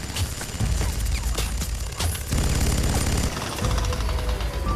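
Rapid bursts of gunfire from a film scene, loud, dense rattling volleys that stop and start several times over a few seconds, with little else audible.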